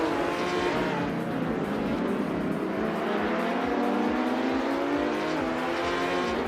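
Racing cars, among them a 1970 Ford Mustang Boss, scream along together with engines droning at high revs, pitch rising and shifting as cars jostle and pass, loud and continuous with a hint of tire squeal.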